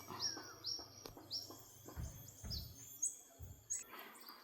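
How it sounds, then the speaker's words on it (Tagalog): Birds chirp and tweet in short bright calls among trees in a quiet wooded area, with occasional soft low thumps and rustles beneath them. "Naririnig niyo po yung ibon"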